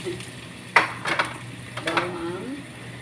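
Garlic and ginger sauté in a pan, with a soft, steady sizzle under sharp clanks and scrapes of a utensil stirring against the pan, all fairly quiet and close.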